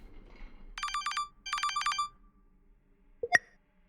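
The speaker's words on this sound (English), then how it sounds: "Perhaps it's time we pick up the phone." Telephone ringing in a horror video game, two crisp electronic trilling bursts close and clear in a quiet room, followed by a short sharp click.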